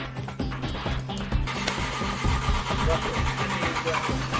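A minibus engine cranks and catches, then idles with a steady mid-pitched rumble close by, under a noisy, busy background.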